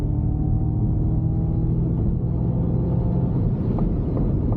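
Ford Mustang Mach-E electric car accelerating onto a freeway, heard as a steady, continuous low cabin rumble of motor and road noise with no voices.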